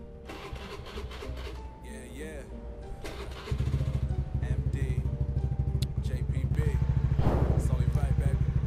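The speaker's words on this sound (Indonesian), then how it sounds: "kita coba untuk menghidupkan si motornya" A Honda BeAT FI scooter with a newly fitted fuel pressure regulator is cranked and starts, settling into a steady, close idle with a rising engine rumble, while someone talks over it.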